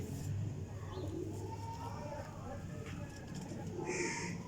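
Domestic flying pigeons of Sialkoti, Teddy and golden types cooing softly and steadily throughout, with a bird call rising near the end over constant low background noise.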